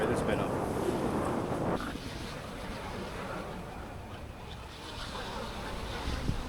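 Gusty wind buffets the microphone over surf at Redcliffe Jetty, steady and fairly loud, easing slightly after a couple of seconds and continuing without a break.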